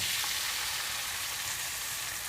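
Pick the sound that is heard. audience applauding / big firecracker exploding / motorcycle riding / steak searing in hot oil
steak searing in hot oil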